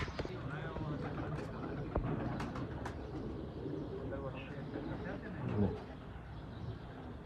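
Pigeons cooing faintly in a breeder's loft, soft low coos mixed with wing flutters and background chatter, with people talking throughout.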